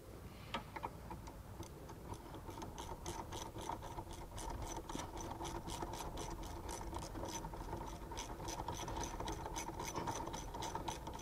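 Ratchet wrench tightening an AC line fitting on a 2007 Chevrolet 2500 HD diesel truck, a steady run of rapid close metallic clicks continuing throughout without talk.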